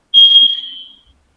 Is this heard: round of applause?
no